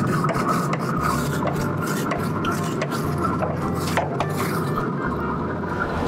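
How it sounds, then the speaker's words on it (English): A scrubber rasps steadily across the grates of a Pit Boss Pro Series combo grill, a loud, continuous close-up scraping with no talk over it. "I'm just gonna go ahead and rub this down real quick with our scrubber"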